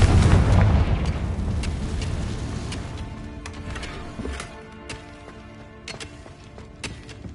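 Confringo spell explosion in Hogwarts Legacy, a loud booming blast at the start that rumbles and fades over several seconds, followed by sparse crackles and small impacts.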